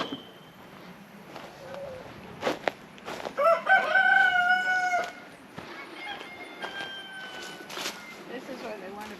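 Chickens on a farm cluck and crow while meat birds are being moved outside in a cage held by a tractor bucket; one loud crow stands out midway over scattered clucks, and people talk nearby.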